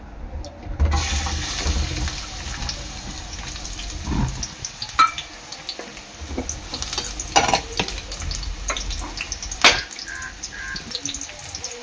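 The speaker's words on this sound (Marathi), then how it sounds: "फोडणीला टाकते मी बारीक चिरलेला कांदा" Finely chopped onion hits 2 to 3 ladles of hot oil and sizzles steadily, with scraping stirs and a few clinks of a utensil against the pan.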